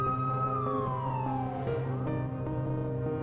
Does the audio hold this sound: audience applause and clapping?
no